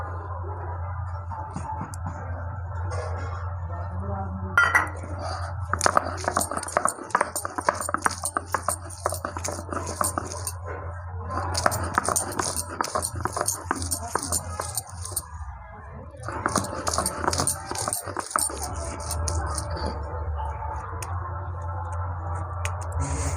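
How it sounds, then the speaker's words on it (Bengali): Garlic is ground into a paste for a mutton and new potato curry, with repeated rough scraping and grinding strokes coming in bursts separated by short pauses, close and fairly loud. "এখন এই রসুনটা বেটে নেবো।"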